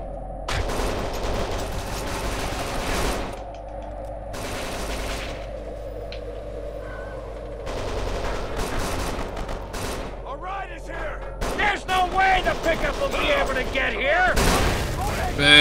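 Gunfire in the video game Kane and Lynch 2, repeated bursts and single shots spread across the clip, loud and dense, mixed with game noise and talk.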